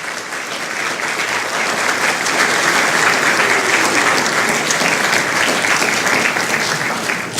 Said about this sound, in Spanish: les deberíamos brindar un caluroso aplauso